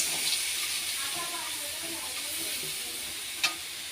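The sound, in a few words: stirring sugar candy (nakuldana) in a hot pan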